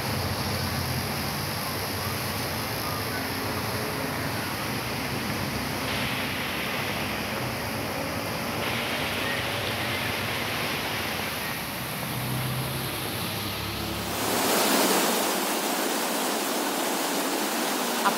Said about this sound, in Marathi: मुसळधार पाऊस ठाण्यामध्ये आता काही वेळापासून सुरू आहे